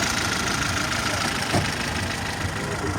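A 1990 car with an 011 engine idles steadily, a continuous close mid-low rumble with a faint knocking texture and no voices over it.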